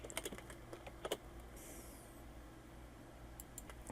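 An email address is typed on a computer keyboard in a short run of quiet, close key taps, then a pause, then a few more keystrokes near the end. A faint hiss is heard in between, with no talking.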